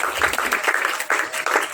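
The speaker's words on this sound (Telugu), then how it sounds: "అందరూ ఒకసారి గట్టి చప్పట్లు కొడదాం ఫాదర్ గారికి." An audience claps for a priest at a gathering, brisk uneven handclaps in short rhythmic bursts, fairly close and moderately loud.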